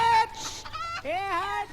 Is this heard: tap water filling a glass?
no